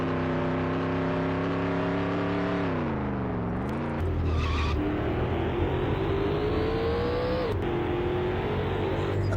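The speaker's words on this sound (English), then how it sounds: "Listen to the engines." Race car engines in a 2005 NASCAR video game at the Sonoma road course rev high and climb through gears, pitch sweeping up and dropping at each shift, loud and continuous.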